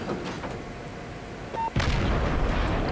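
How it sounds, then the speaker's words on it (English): Warship gun turrets firing in a naval combat video game, a faint distant report early on, then a heavy booming blast followed by rumbling, with no talking. "You can actually see the turrets there, firing at me."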